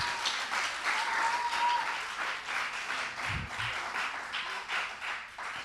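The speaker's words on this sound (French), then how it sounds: "Merci sous vos applaudissements." Faint, steady applause from a studio audience at the final of a French TV presenter contest, with claps blurring into a continuous patter.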